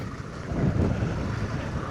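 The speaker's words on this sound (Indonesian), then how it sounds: "Anginnya kencang." Strong wind buffeting outdoors at a roadside stop on the way to Kuta Mandalika, Lombok, a loud continuous low roar that rises and holds across the moment with no talk.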